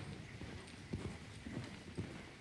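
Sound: horse hooves in Bibi & Tina video game

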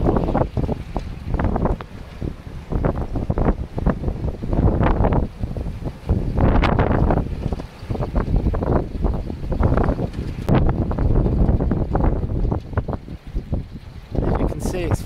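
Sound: high wind blowing around a wind generator

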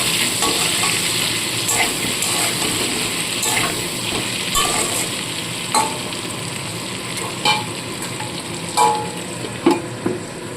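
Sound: potatoes frying in oil with salt and turmeric

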